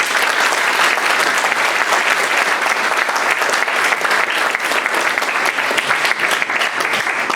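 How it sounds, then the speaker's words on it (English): Audience applause at a Siyum celebration, a dense, sustained wash of clapping hands filling the room at steady loudness throughout, with no pauses or speech over it. "as Rab Moshe, who deserves such a round of applause"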